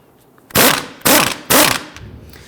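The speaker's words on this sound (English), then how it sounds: "We're going to use a 18mm swivel socket with an extension. I'm going to see if we can go ahead and loosen this knot." Three loud, close bursts of ratchet clicking come from an 18mm swivel socket on an extension loosening a front strut nut on a 2012-2019 Fiat 500, with short pauses between the strokes.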